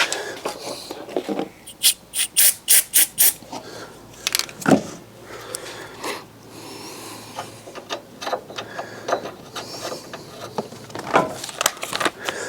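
Quick bursts of ratcheting clicks as a ratchet tightens a bolt on a Fiat 500, in short runs pausing between turns, close by with some metallic scraping and handling noise.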